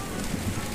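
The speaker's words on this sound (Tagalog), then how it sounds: "Ang lakas na ng ulan" Steady dense rain pours down in a continuous hiss, a brief wash of sound with no voices.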